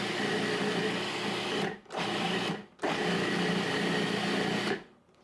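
An electric blender whirs steadily while mixing pie dough for mini apple pies, running in three bursts with brief pauses between, then cutting off.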